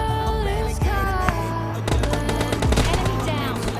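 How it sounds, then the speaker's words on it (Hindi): Suppressed AKM rifle fire in PUBG Mobile Lite crackles in rapid, dense bursts, mixed with other game effects and tones throughout a busy, loud battle scene. "सामने से कोई AKM पे सप्रेसर लगा कर फायर कर रहा था"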